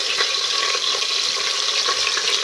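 Cluster beans (guar) frying in hot oil inside a pressure cooker give off a steady, bright sizzle that stays even and close for the whole stretch, with no voices over it.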